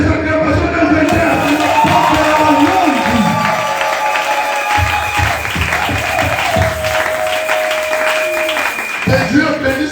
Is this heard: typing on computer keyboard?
no